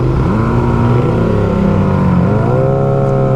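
A Ducati Monster motorcycle engine revs loud and close, its steady roar rising and falling in pitch, easing off then climbing again near the end, with no other sounds over it.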